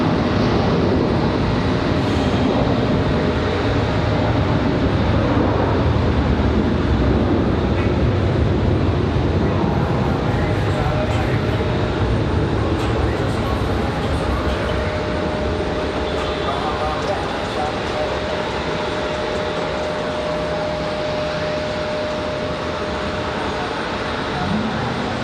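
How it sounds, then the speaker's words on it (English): A Delta Boeing 737 airliner rolls down the runway for takeoff at Raleigh-Durham International Airport, a steady broadband engine roar holding loud and continuous throughout. "Delta using up some runway."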